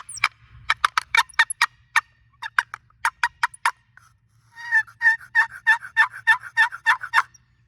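A turkey box call yelps in a quick series of sharp notes, pauses, then breaks into a faster run of clucking, loud and close.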